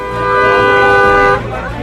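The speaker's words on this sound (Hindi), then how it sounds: "लोजपा नेता चिराग पासवान अपने चाचा पशुपति कुमार पारस के घर के बाहर गाड़ी में बैठे रहे, हॉर्न बजाते रहे," A car horn honks in one long, loud, steady blast outside the gate of a house, then cuts off, leaving quieter background noise.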